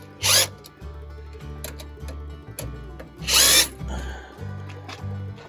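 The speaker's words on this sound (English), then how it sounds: "Come in here and loosen up these clamps." A power driver loosens hose clamps on an engine's thermostat housing, giving two short, loud whirring bursts, one near the start and one mid-way, over a steady low hum and light handling noises.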